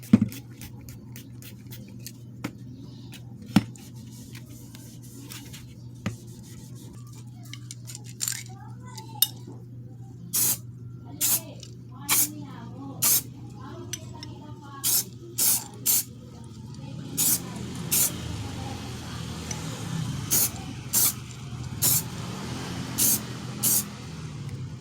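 Short bursts of an aerosol spray of alcohol onto a bike stem and crank before painting, about a dozen hissing puffs in uneven rhythm, close by over a low steady hum, with faint ratcheting clicks early on.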